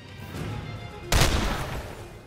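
A single loud gunshot rings out in The Lamplighters League, a sharp boom in the middle that decays into a reverberant tail over a low, steady game background.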